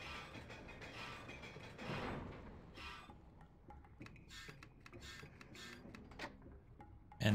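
Mechanical clanks, ratcheting and creaks from a machine being repaired with a wrench in the Lego Indiana Jones video game, a fairly quiet run of small repeated clicks and rattles with a louder knock at the end.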